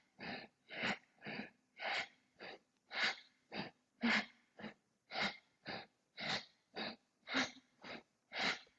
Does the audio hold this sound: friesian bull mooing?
no